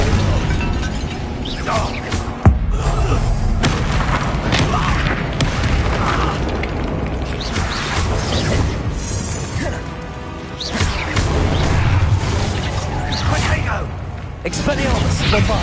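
Explosive combat spells cast in Hogwarts Legacy, a dense run of booms, crashes and whooshing bursts, with one sharp blast early on, mixed with constant voices shouting incantations.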